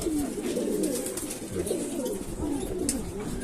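Several racing pigeons coo continuously in a loft in low, throaty murmurs, overlapping one another at close range.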